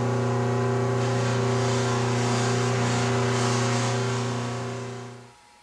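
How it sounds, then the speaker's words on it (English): A buffing machine polishes a Crush-Grind pepper mill, its motor giving a loud, steady hum throughout before winding down and fading near the end. "I will get started on the buffing"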